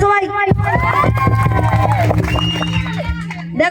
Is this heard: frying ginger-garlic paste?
no